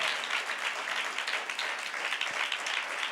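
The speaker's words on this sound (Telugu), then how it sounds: "కొట్టాలి గట్టిగా చప్పట్లు." A church congregation at a Sunday service claps loudly and continuously, a dense, even wash of many hands close around, with no talking over it.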